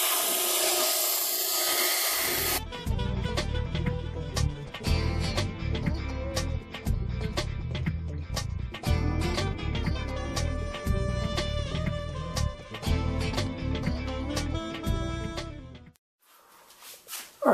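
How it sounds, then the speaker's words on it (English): An oscillating spindle sander runs loudly and continuously while smoothing the edges of wooden intarsia pieces for a dragonfly project, a close motor drone with repeated grinding contacts, briefly stopping near the end. "So I think the oscillating spindle sander is a good way of just cleaning up those"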